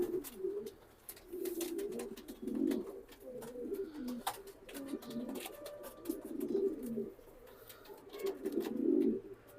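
Racing pigeons coo at close range with soft, repeated low throaty calls in an uneven rhythm. Faint clicks and flutters sound in the background.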